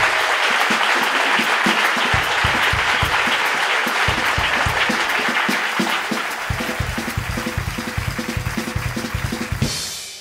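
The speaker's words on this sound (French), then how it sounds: "faites un tonnerre d'applaudissements pour Véronique Gallo" Loud, sustained audience applause greets a comedian taking the stage for an evening performance in Paris, dense clapping filling the whole stretch with slight ebbs and a rhythmic quality in places.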